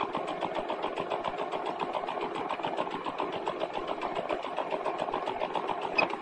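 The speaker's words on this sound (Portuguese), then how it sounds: "E aí se deve passar uma costura se guiando por esse vinco do viés" A sewing machine runs a straight seam along the fold of bias binding on fabric, a steady fast mechanical chatter that stays even and close for the whole stretch with no talking.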